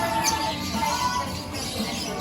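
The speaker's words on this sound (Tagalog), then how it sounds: "Narinig mo hihuni ng mga ibon" Birds chirp outdoors around an al fresco cafe seating area in Dasmariñas, light high tweets scattered over a constant background hum, fairly faint and intermittent.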